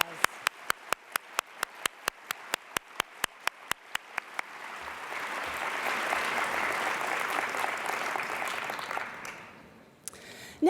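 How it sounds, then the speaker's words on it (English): A conference audience at a cystic fibrosis care plenary gives a round of applause; it starts as a few sharp, evenly spaced claps from a handful of people, then swells into a sustained crowd ovation before tailing off. "Please, let's give everyone a round of applause."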